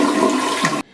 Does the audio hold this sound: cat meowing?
no